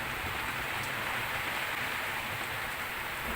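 Steady rain patters across a sailboat cockpit, a dense, even hiss of drops striking the deck and surfaces nearby, with no one speaking.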